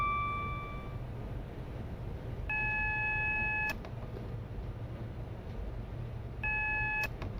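Cab alarms in the Train Simulator Classic game, running from Preston to Glasgow, beep in short multi-tone bursts separated by gaps over a steady low rumble of the train. No one speaks.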